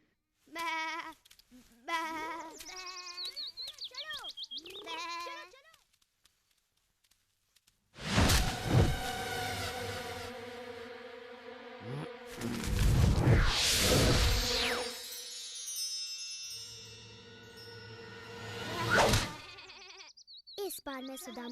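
Cartoon sheep bleat repeatedly in a quick run of wavering cries, loud and close, in an animated Little Krishna scene, followed by a swoosh and voices talking over a busy backdrop.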